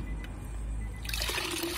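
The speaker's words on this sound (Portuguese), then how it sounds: "Vou umedecê-la." Clean water splashes and trickles onto a cleaning cloth to moisten it, starting suddenly after a quiet room hum and running on steadily nearby.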